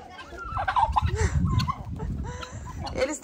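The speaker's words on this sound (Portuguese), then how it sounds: "o povo do galinheiro tá todo se juntando" Chickens and turkeys crowd together in a henhouse, gobbling and clucking in close, busy overlapping calls, with some low scratchy noise and a voice faintly mixed in.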